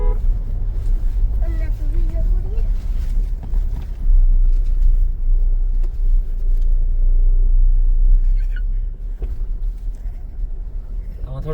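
A small four-wheel-drive car's engine labours up a steep, rough road toward a temple, a loud continuous low rumble with wind buffeting, and people talk over it.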